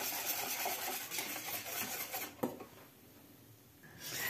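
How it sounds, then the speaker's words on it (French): Whisk stirring a cooking rice and milk mixture in a pot on the stove for mhalbi, a steady scraping, rubbing rasp that runs continuously up close, then quietens briefly before resuming. "vous mettez sur le feu et vous restez à fouetter comme ça, à mélanger votre mélange jusqu'à ce que ça cuit"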